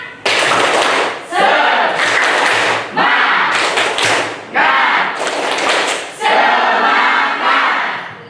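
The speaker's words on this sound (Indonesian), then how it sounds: "Nah, tepuk semangat." A group claps a rhythmic spirit-clap pattern in repeated loud bursts, the claps fast and dense in each phrase, separated by short pauses, with a few voices shouting along.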